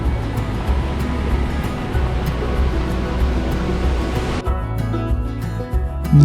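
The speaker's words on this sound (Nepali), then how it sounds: "न्याउली झरना चाहिँ बाटोको छेउमा नै थियो" Nyauli waterfall beside the road on the Manaslu Circuit trek gives a steady, loud broadband rush of falling water, which cuts sharply to a thinner sound near the end.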